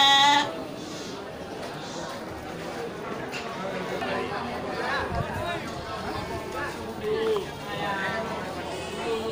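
Sheep and goats bleating at a busy goat market in Grogol, scattered calls rising over a constant crowd chatter, with people talking nearby throughout.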